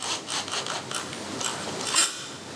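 A power screwdriver set to torque 13 drives a screw into wood, producing a short, close, grinding buzz in several bursts that peaks just before stopping.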